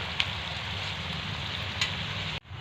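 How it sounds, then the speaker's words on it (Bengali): Onions frying in a pan for chicken kosha make a quiet, even sizzle with a couple of light taps before the sound cuts off abruptly near the end. "পেঁয়াজটা দিয়ে দিয়েছি এটা এখন ভাজাভুজি হোক"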